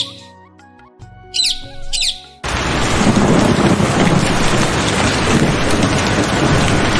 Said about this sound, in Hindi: अगले दिन घनघोर बारिश से गांव में पानी ही पानी हो गया